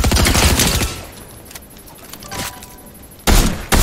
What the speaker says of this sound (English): Some idiot shooting us from up top.